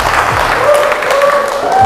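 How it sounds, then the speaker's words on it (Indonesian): Steady applause from a crowd of vocational school students, dense clapping that continues evenly through the whole stretch, with faint tonal hum in the background. "Ayo tepuk tangan."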